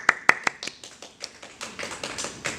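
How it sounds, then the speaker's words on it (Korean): A few sharp hand claps open a short burst of applause in a Christian humanities class on psychology, then sparse, lighter claps and taps trail off. The applause is close and quiet, with no voices over it. "박수."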